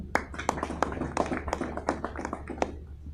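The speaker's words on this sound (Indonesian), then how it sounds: "Tepuk tangan buat Mas Juanda" A small audience at a motivational business talk claps for a man, sparse, uneven handclaps from a few people, faint and somewhat distant, with separate sharp claps spread across the moment.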